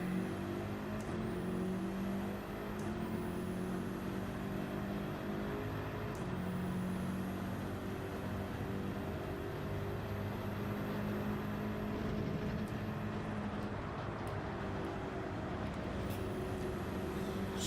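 A BMW race car engine in Gran Turismo 7 drones loud and continuous at Interlagos, pitch rising through the gears with sharp shift breaks every few seconds, with no talk over it.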